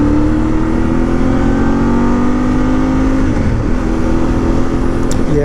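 A 2025 Voge DS800X Rally motorcycle engine drones loud and close in a steady ride, its pitch climbing smoothly, dipping briefly mid-way, then rising again under rushing wind noise.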